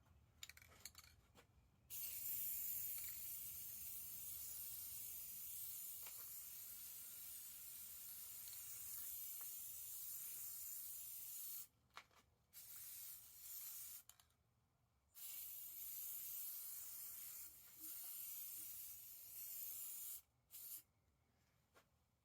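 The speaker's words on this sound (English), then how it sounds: "let's go ahead and get this stuff sprayed in?" Aerosol spray paint hissing onto Halloween jack-o-lantern decorations in long sustained bursts, several extended sprays separated by short silent gaps, close and fairly loud, with no voices.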